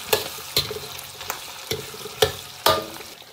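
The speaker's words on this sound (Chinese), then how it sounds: "炒出红油以后，加入火锅底料，" Hot pot base and Pixian chili bean paste are stir-fried in oil in a wok, with a low sizzle under five or six sharp, evenly spaced scrapes of the spatula, close-up and without voices.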